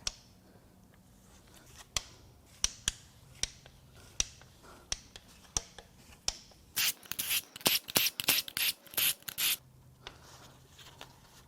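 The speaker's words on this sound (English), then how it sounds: "I should be able to get all of the rod cap bolts out without having to turn the crank" Ratchet working rod cap bolts on a VW 1.9 TDI ALH/AHU diesel engine teardown: sharp isolated ticks and clicks spaced about every half second, then a dense burst of rapid rasping ratchet clicks, close and fairly quiet with no talk.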